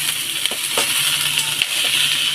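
Potato and pumpkin frying in oil with onion, chilli and black cumin: a close, steady sizzle with a few soft clicks from stirring, and no talking.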